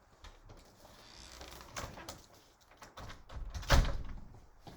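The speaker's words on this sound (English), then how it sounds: "So now I got to close the door of my periodic table here." A cabinet door is pushed shut, with soft shuffling and handling that build to one firm thud near the end.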